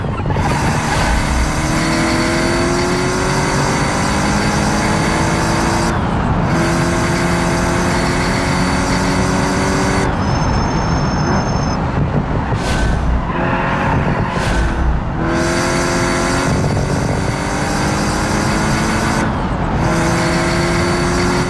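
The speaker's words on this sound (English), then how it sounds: "I'm going to try to use the engine to help slow us down" A car engine-brakes in the BeamNG driving game, its revs climbing and dropping through gear changes as a loud, continuous engine drone with short breaks between shifts.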